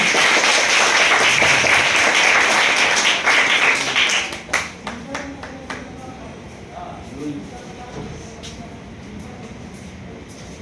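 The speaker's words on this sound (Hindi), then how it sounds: "सर के लिए जोरदार ताली दें" At a school felicitation ceremony for matric and intermediate toppers, a hall full of people claps loudly for a teacher, dense applause for about four seconds, then tapering into scattered claps over a murmuring room.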